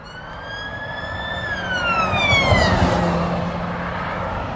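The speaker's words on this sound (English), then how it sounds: "Loads of police activity, ambulances." Ambulance and police sirens wail and sweep in pitch as emergency vehicles pass, swelling louder then receding, with traffic rumble underneath.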